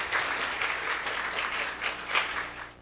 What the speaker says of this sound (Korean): 나오실 때 큰 박수로 맞이해 주시고요.